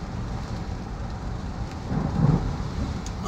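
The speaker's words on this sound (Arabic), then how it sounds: "ما شاء الله بدت الصواعق الحين" Thunderstorm in Wadi Ghazal, with steady rain hissing throughout and a soft, distant roll of thunder swelling briefly near the middle, no voices.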